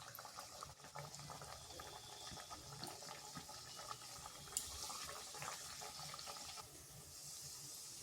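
Flour-and-sugar sweets frying in hot oil in a wok over low to medium heat, giving a steady, dense sizzling crackle that runs throughout with no talking.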